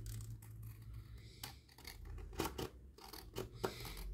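Scissors snip through a strip of craft material for a Christmas chorister decoration, a few short, separate cuts close by with quiet pauses between them.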